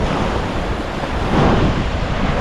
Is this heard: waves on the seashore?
yes